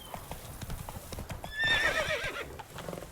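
Roach the horse in The Witcher 3 video game, hooves clip-clopping at a steady trot with a clear whinny rising over them midway, moderately close, with faint talk in the background.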